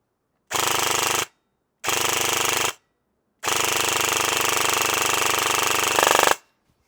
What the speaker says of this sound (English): what we want to see is this thing tear out some rounds